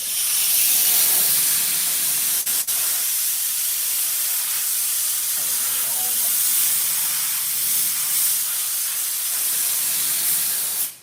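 A steady, loud hiss of compressed air blowing dirt out of a seal runs throughout, broadband and continuous, with a brief dip partway through.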